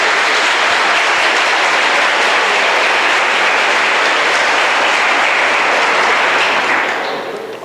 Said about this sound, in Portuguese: Aplauda esse Deus.